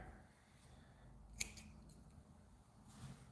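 Scissors snip through fly tying material for bass bugs, a quiet sharp cut near the middle with a couple of fainter snips after it, close and soft, no speech.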